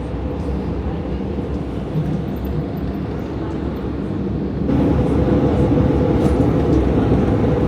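Steady low rumble and hum of a moving train interior, getting slightly louder partway through, with no voices.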